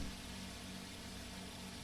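Simulated piston engine of a Cessna 206H in Microsoft Flight Simulator 2020, a steady low droning hum that holds an even level throughout, faint and unbroken, with no talking.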